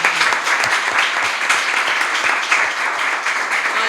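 Steady, dense applause from an audience at a book presentation for two presenters, continuous crowd clapping at close range with no break throughout.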